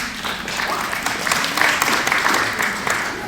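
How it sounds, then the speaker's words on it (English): A workshop audience gives steady, moderately loud applause that holds evenly for a few seconds, with crowd noise mixed in. "give yourself actually a round of applause for coming out and being present"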